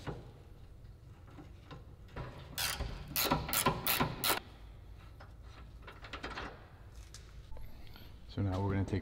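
A ratchet wrench clicks in quick bursts while loosening 17 mm bolts to remove the camber arm from a Nissan GTR's suspension in a garage, with quieter handling noises between the bursts.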